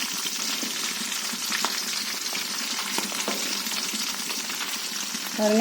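Hibiscus leaves sizzle and crackle in hot hair oil, a loud, steady frying hiss that continues throughout and swells slightly at the end.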